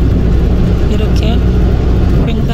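Route R9 bus rolls along a road on Qijin Island with a loud, steady engine drone from inside the vehicle, a few brief rattles and clicks on top.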